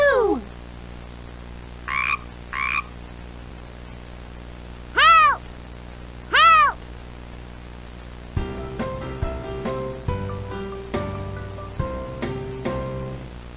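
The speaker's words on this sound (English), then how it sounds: "There is a frog." A cartoon frog croaks in a children's TV episode, with several short rising calls spaced apart, then a bouncy music tune takes over.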